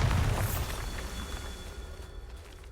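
A Bombarda blasting spell in Hogwarts Legacy goes off as a loud, deep boom, then rumbles and fades away over a couple of seconds with no talk over it.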